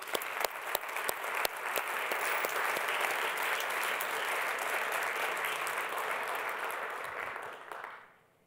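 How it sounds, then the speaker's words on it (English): An audience at the Vail Global Energy Forum closing session gives a sustained round of applause. Dense, steady clapping rises quickly, holds for about seven seconds, then fades out. "let's just take a moment with a round of applause for and thank them for all"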